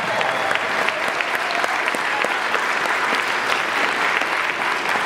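Steady, dense applause from a college convocation audience fills the hall for the full stretch, loud and continuous with no talk over it.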